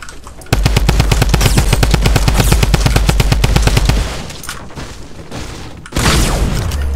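Rapid automatic gunfire in Fortnite at Tilted Towers, a loud sustained burst of evenly spaced shots for several seconds, then a quieter pause and another loud blast near the end.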